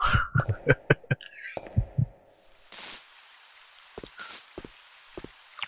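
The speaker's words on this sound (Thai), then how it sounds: "เวลาขึ้นบางฉากจะมีเสียงหัวใจและจอย แม่งก็จะสั่นด้วย" A heartbeat effect in the horror game Resident Evil Code Veronica X starts as a run of rhythmic low thumps. These then give way to soft hissing bursts and scattered faint taps.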